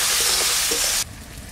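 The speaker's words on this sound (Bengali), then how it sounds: "এবার ভালো করে এটাকে নাড়াচাড়া করে একটু ভাজা ভাজা করে দেবো" Fish coated in salt, chilli and turmeric sizzles loudly in a hot pan as it is stirred, the hiss steady and strong, then dropping suddenly to a quieter sizzle after about a second.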